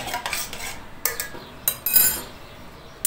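Dishes, cups and cutlery clinking and clattering at a home kitchen dishwasher, a string of sharp, close metallic and ceramic knocks at irregular intervals with no talking.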